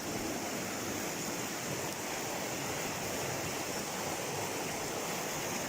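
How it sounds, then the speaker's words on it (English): River rapids on a riverside walk at Allensford rush in a loud, continuous, close-up roar of turbulent flowing water that holds steady throughout with no voices. "It's a bit noisy down here because obviously for the water flow, the rapids."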